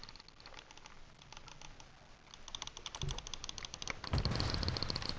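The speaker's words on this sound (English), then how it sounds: "They still have those beautiful mouse clicks, and I'll give you a little ASMR too as well." Rapid, crisp clicking of the mouse-click buttons on a SCUF Reflex FPS game controller, a steady close patter of small taps that grows louder and busier toward the end, with no talking.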